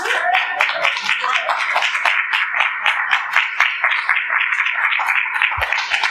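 A crowd at a video premiere event claps steadily in a bright, close round of applause that holds at an even level for several seconds, with a few cheers mixed in.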